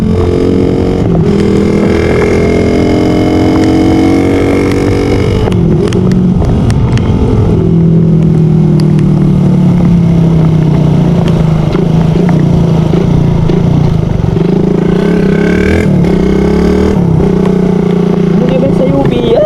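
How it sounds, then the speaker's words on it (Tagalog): A motorcycle engine drones and shifts pitch as it rides along in the rain, with wind and road noise throughout and voices talking over it. "Sarap din magmotor-motor pag umuulan eh"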